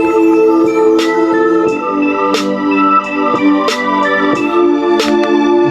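An R&B beat loop played on a sampler, with sustained chords under steady, punchy drum hits landing roughly every second and a half, repeating evenly throughout.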